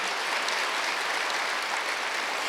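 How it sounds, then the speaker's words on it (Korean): A church congregation at a Wednesday worship service claps loudly and continuously, with a full, even roar of many hands sustained at high volume from start to finish. "박수 좀 세게 쳐보세요."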